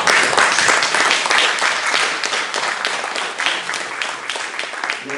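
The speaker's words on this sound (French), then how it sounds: "je pense qu'on peut vous applaudir, nous du conseil municipal, pour vous remercier." Members of a municipal council applaud parents and daycare staff, giving loud, dense, close clapping that carries on steadily for several seconds before slowly thinning out.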